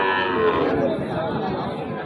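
Cattle mooing amid a busy crowd at a cattle market, with steady chatter and livestock noise filling the space at close range.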